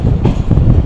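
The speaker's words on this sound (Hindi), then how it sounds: "ट्रेन देखो कितनी गोल हो रही है" A train runs along rails through a curve between Bahawalpur and Punjab in Pakistan, giving a short, steady, loud low rumble from close by with no distinct wheel squeal.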